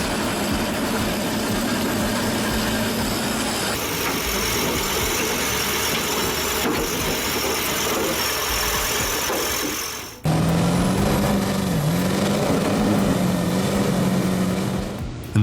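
A Chevy Duramax diesel truck engine on 66-inch tractor tires rumbles steadily in an arena, a continuous heavy drone with a sharp shift in tone partway through.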